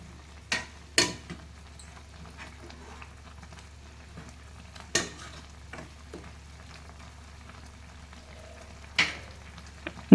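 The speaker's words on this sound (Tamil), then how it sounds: "குழம்பு நல்லா கொதிக்குது." Soybean gravy simmering in a pan gives a low steady bubbling hiss, broken by a few sharp clatters of stirring near the start, middle and end, with no talking.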